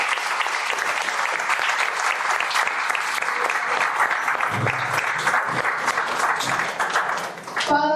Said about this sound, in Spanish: Le recibimos al maestro con un fuerte aplauso.